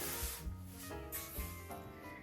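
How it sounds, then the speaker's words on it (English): Cotton fabric is folded and wrapped over a cardboard comic book board, giving a few soft close rubbing and brushing swishes in quick succession, quiet and alone. "We're gonna fold that fabric right over the comic book board."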